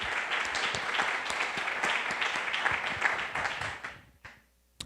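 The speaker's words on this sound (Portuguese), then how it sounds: "Aplaudamos o Deus." A church congregation applauds together in a dense, steady wash of clapping that continues for about four seconds, then quickly dies away into near silence at the end.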